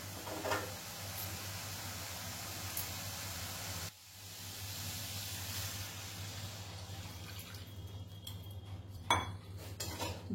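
Water being stirred into a cooked spice paste in a pan for a Bengali pabda fish curry: a hissing simmer with scraping and light metallic clinks from the utensil, and a brief louder clatter near the end.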